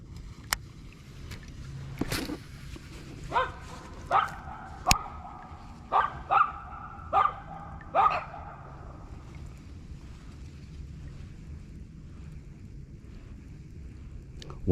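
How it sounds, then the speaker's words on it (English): Several dogs bark in a series of sharp, spaced yelps at moderate distance, about eight clustered barks over several seconds, heard outdoors by water while fishing for smallmouth bass in January, with faint wind and a low rumble underneath. "I'm sorry about the dogs barking"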